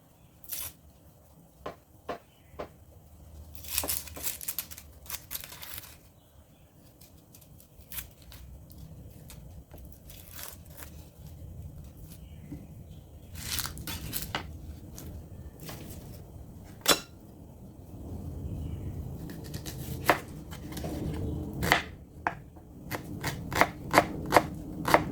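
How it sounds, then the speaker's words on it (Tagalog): Papery onion skin is peeled by hand in a home kitchen, with scattered crisp crackles and tearing snaps, close and intermittent over a low background. "unahin natin yung sibuyas. Balatan lang natin"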